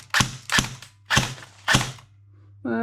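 Airsoft gun with a T238 brushless motor running on a 7.4 volt battery fires four sharp semi-auto shots at uneven intervals, each a crisp snap over a low motor hum, and a short voice follows at the end.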